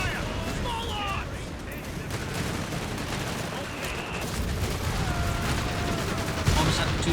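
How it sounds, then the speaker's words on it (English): Small arms gunfire crackles in a Company of Heroes 3 match between the Afrika Korps and US forces, steady distant shots under a busy battlefield bed, with voices present. "Under fire! Small arms!"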